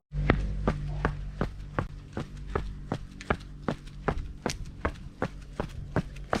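Running footsteps in Newton Distance 10 running shoes with thick rubber block soles, a steady series of crisp, evenly spaced close steps with a crunchy edge.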